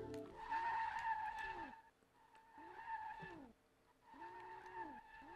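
Tires of a Nissan 240SX squeal as it drifts in the game SLRR, in three long wavering screeches with brief gaps between them, under a faint engine drone.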